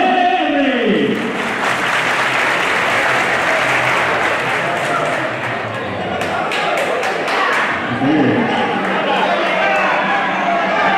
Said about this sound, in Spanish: aquí un puro aplauso